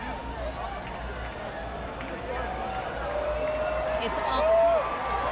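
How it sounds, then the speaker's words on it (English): A crowd in Clemson gathered for a solar eclipse murmurs, chats and calls out in a steady outdoor hubbub that swells near the end, with a reporter talking over it. "There are gasps everywhere. People are chatting. People are so excited. They are cheering. They are yelling."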